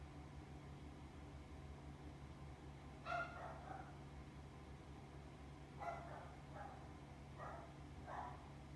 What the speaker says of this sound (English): dog roommate is barking right now.